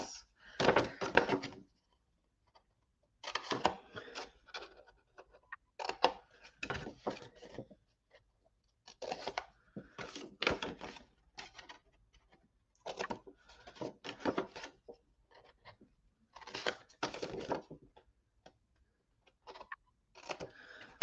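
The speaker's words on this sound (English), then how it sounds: "Again, cut out the 4 triangles." Paper being cut with scissors into four triangles for a handmade card envelope: short clusters of crisp snipping and rustling, separated by quiet gaps, close and fairly soft.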